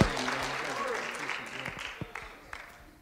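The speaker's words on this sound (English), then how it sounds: "So I want you to give a praise chapel hand clap for Phillip." A church congregation in a chapel gives a hand clap, a loud burst at the start that thins and fades into a few scattered claps, with voices under it.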